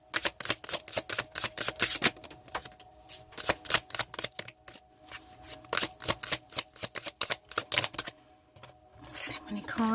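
Tarot cards are shuffled by hand close up, a quick run of crisp riffling flaps in bursts with short pauses between them.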